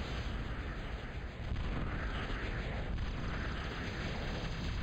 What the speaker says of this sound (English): You can see how those gas bags are blowing up and destroying RVD's Samsons.